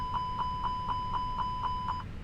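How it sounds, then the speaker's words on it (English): In a Fenix A320 flight simulator, the APU fire test alarm sounds as eight evenly spaced electronic beeps at a steady quick rhythm, clear and alone over a low cockpit hum, then stops. "Let's do APU fire test."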